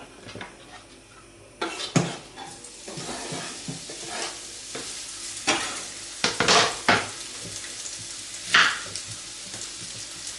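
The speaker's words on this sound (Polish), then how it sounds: "Cebulkę podsmażymy na złoty kolor." Onions fry in a pan until golden for a potato casserole. A soft, continuous sizzle runs under scattered scrapes and clatters of a spatula against the pan, all nearby and fairly quiet.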